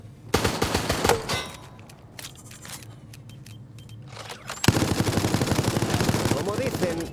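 Rapid bursts of automatic gunfire in a video game rattle over a busy, noisy background, pausing briefly before resuming in a dense, continuous barrage.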